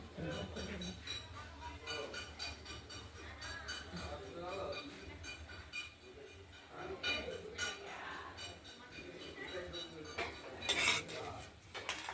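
Spices and rohu fish pieces are stirred in a pan, with metal utensils clattering and scraping steadily throughout, alongside a fry; a voice talks over much of it.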